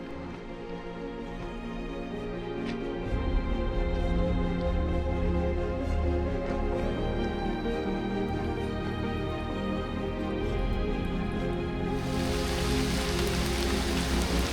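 Steady rain falling on a hike in Hong Kong, a dense continuous patter that grows heavier after a few seconds and gains a sharper hiss near the end, close and loud.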